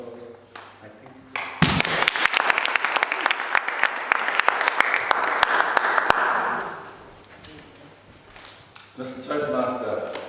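Applause from the audience at a Toastmasters club meeting, a dense burst of clapping that swells quickly, holds for several seconds and fades, with voices talking before and after.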